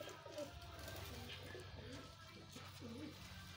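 Several pigeons bathing in summer heat coo softly in repeated low, rolling calls, over a steady background hum; no talking.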